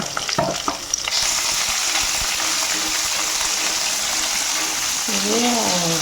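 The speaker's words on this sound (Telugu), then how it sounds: "ఇప్పుడు సాల్ట్ వేస్తే ఎర్రగడ్డ బాగా వేగుతుంది." Onions fry in a pan for pakoda curry, giving a loud, continuous close sizzle that swells after a few clicks and clatters at the start; a voice speaks briefly near the end over the frying.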